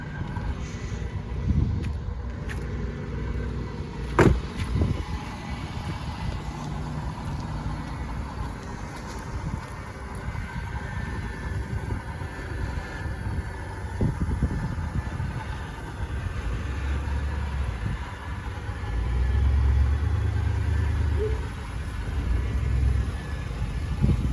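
A 1994 Buick Park Avenue idles steadily after startup, a low continuous engine rumble close by with a brief knock near the start and a slight swell toward the end, no talking.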